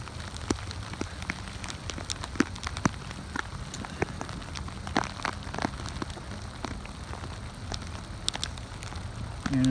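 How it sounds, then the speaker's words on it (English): Steady rain pours down continuously in Fort Worth, Texas, in the evening, a dense patter of drops hitting surfaces with occasional louder splats, no voices. "it's been raining like this most recently for probably 3 or 4 hours straight"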